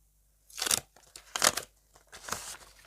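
Three short crinkling tears of a plastic packet, close and crisp, separated by brief quiet pauses.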